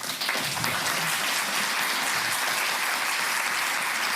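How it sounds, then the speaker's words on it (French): Applause from the audience at a psychiatry colloquium, an even, moderately distant patter of clapping that holds steady for several seconds. "Adalberto, on peut l'applaudir."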